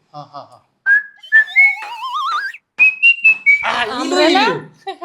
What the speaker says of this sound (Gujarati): એ જે સીટી વગાડી હતી ને